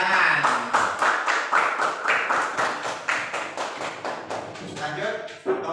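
A class of students claps in a quick, fairly rhythmic pattern of distinct close hand claps, with voices mixed in during the applause.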